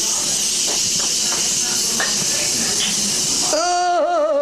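Lysol aerosol spray blasts onto armpits in a loud, continuous hiss lasting about three and a half seconds, after which a voice speaks.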